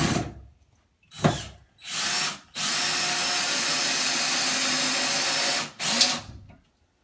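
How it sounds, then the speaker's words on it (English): A power drill drives screws to fix plasterboard in place while building a water cupboard in a home renovation. Two short whirring bursts come first, then a long steady run of about three seconds and a final short burst, close and loud with no talking. "Alex is just screwing to fix them in place"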